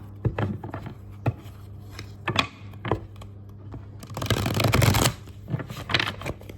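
Tarot cards shuffled by hand in a few short riffled bursts, then a longer dense flutter of card edges near the end, close and fairly loud with no talking.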